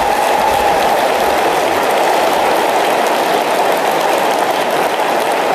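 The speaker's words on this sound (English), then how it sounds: "Round of applause." Sustained applause from a large audience at a Microsoft Dynamics CRM 2013 launch event, a dense, steady wash of clapping that fills the whole stretch without pause.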